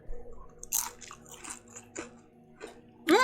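Crunchy bites and chewing of fried food such as mojos with garlic mayo, a few sharp crisp crunches spaced irregularly and heard close but faint, with soft mouth noises between them.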